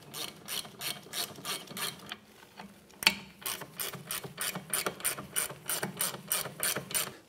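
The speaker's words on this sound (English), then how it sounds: "with a 14 millimeter socket, we'll tighten these down." A ratchet with a 14 mm socket tightens brake caliper bolts on a 2011-2016 Hyundai Elantra, giving rapid clicking strokes in repeated bursts with a short pause and a sharp knock midway, close and clear with no talk.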